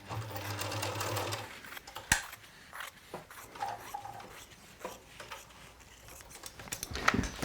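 Sewing machine stitching a fabric patchwork cushion, its motor whirring in a short steady run before quieter clicks, rubbing and handling noises, faint and close.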